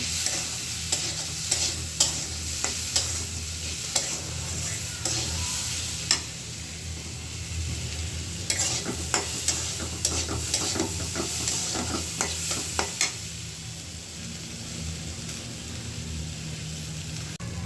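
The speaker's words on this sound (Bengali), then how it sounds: "এখন ডালটা হালকা একটু ভাজা ভাজা করি, তারপর জল দিয়ে দিব।" Lentils seasoned with turmeric and salt fry in a hot pan, a steady sizzle running throughout with frequent scraping and stirring clicks from a spoon, close and moderately loud, no talking.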